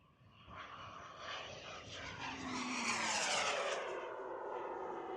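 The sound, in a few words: radio-controlled model airplane engine at full throttle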